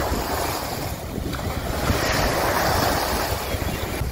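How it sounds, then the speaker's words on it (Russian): Sea waves wash onto the shore at Mariupol, a loud continuous surf roar mixed with heavy wind buffeting the microphone, and nobody speaks. "Вот оно море."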